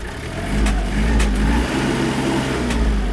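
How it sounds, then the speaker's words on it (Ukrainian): The small diesel engine of a Kubota GL-300 mini tractor with cab runs loudly and steadily, its revs rising and holding high with a rough, throbbing rumble throughout. "ось така робота двигуна."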